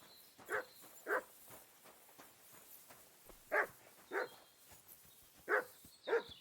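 Dog barking in the medieval video game Kingdom Come Deliverance 2, six separate barks in loose pairs, fairly close and clear over a faint steady background hiss.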